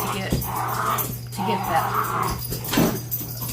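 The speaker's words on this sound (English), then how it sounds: "Sorry, my dogs." Dogs yip and whimper indoors in short, excited bursts that mix with a person's speech over a steady low hum.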